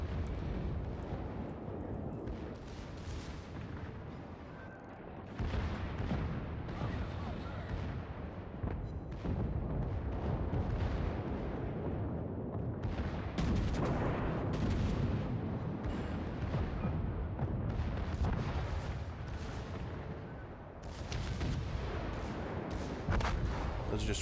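Ship guns auto-firing in World of Warships: continuous heavy booming volleys and rumbling blasts, loud and dense throughout, with a speaker occasionally talking over them.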